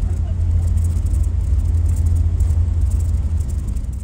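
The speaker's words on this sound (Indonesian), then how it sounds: "Tapi ngapa macet banget ya?" Bus engine idling and crawling in a heavy traffic jam on a Depok to Bukittinggi coach trip, a steady loud low rumble with constant road noise throughout.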